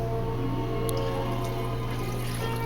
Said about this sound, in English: So we're going to put in our buttermilk.